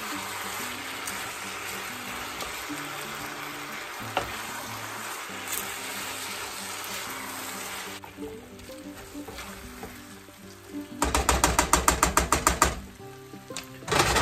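Gluten-free green bean casserole mixture is stirred in a bowl, with soft, wet churning and scraping, then a quick, rhythmic run of clattering strokes near the end.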